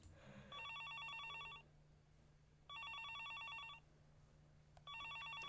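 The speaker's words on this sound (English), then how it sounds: "The next moment, the phone began to ring." A telephone rings in a Higurashi visual novel, a synthetic warbling bell repeated in three bursts, each about a second long, with short gaps, over a steady low background hum.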